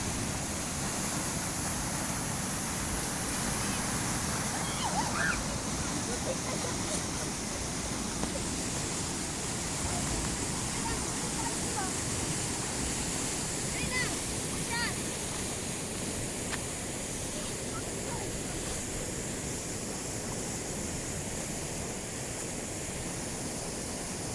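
Water in the Talakag River irrigation system rushes and roars without letup, a broad, even wash of flowing water that fills the scene from start to finish.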